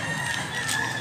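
A rooster at a farm in Mantalungon, Cebu, lets out a single drawn-out crow, close and fairly loud over a steady outdoor background.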